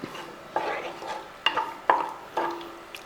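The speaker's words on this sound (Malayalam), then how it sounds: "ആ തൈര് ഒഴിച്ചതിന് ശേഷം ഇളക്കി കൊടുക്കുക" Several sharp spoon scrapes and taps against a pot of pumpkin and pineapple curry as yogurt is stirred in, spaced unevenly, with a light sizzle underneath and no talking.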